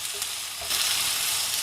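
Onions for potato masala sautéing in a pan, a close, dense sizzle that swells louder partway through, alone with no talking.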